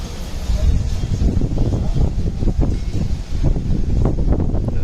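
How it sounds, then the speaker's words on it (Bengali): Strong wind gusting across an open-air swimming pool area in Digha, a loud, steady roar with buffeting rumble against the microphone that persists throughout, with no clear voices. "কিরকম হাওয়া দিচ্ছে"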